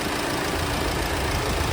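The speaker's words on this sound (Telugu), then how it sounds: "Creta SX plus one point six litre diesel engine వస్తుంది" A 2018 Hyundai Creta SX Plus with a 1.6 litre CRDi diesel engine idles steadily, a continuous low rumble heard close up with no talking over it.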